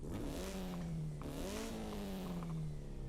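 A Nissan 240SX engine in Forza Horizon 5 revs in a short, continuous burst of loud, buzzy engine tone whose pitch dips and climbs twice over about three seconds.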